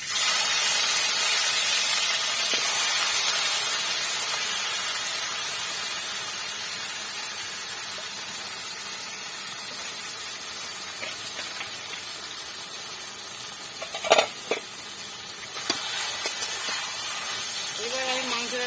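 Mutton dropping into hot oil for Hyderabadi mutton dum biryani, giving a steady close hissing sizzle throughout, with a few brief clinks and scrapes near the end.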